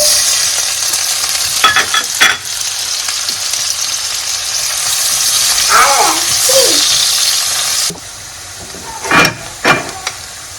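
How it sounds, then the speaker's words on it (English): Chopped onions fry in oil in a pan while jollof rice is made, giving a steady loud sizzle and hiss with intermittent scraping and stirring clatters. "In the same pan, I'll go ahead and add my chopped onions"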